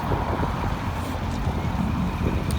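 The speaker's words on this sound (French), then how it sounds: "Il y a un peu de vent, ce n'est pas de ma faute." Constant low wind buffeting the microphone outdoors beside a pink Maserati with a V8 engine, a dull steady rumble with faint hiss, no voices.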